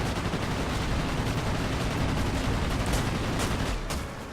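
Rear tailgun machine gun of a TSH-2 attack plane firing in World of Warplanes, a continuous loud rattling stream of rapid shots mixed with engine roar, steady throughout before easing slightly at the end.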